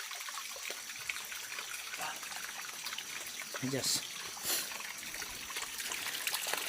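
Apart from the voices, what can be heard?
water trickling in a mountain stream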